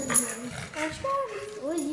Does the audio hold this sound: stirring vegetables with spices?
no